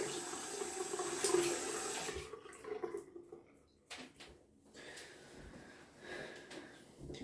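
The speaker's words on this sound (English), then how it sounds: "And rinse the puck off so it's nice and clean." A Grön Lycka shaving soap puck is rinsed under a running tap. Water gushes loudly for about two seconds, then stops, leaving faint handling noises and quiet drips nearby.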